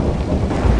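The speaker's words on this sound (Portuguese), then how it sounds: "Tempestade, relâmpagos, trovões" Rumbling thunder with a rain-like wash, broad and steady at close, loud level for under a second, used as a storm effect during a church sermon about a tempest on the sea.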